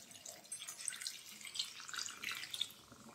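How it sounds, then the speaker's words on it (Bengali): Hot water poured into a pot of chicken curry, a fairly quiet, continuous splashing and trickling stream lasting a few seconds. "এবার জল দিয়ে দেবো, গরম জল।"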